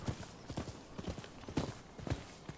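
Horse hooves clip-clop in a steady trotting rhythm in the game Rise of the Ronin, moderately close and continuous, with no talk over them.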